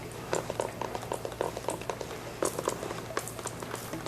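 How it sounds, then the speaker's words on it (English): A squirt bottle lightly sprays water onto a decorative plaster wall to make drips run down it, giving a close, crackly patter of short bursts with no talking. "I can also take my squirt bottle and kind of like a light trigger, and I'm going to kind of create these water drips"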